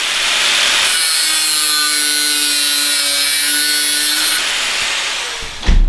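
A small piece of steel is cut with a continuous, loud, rasping stroke that lasts about five seconds and ends with a sharp knock.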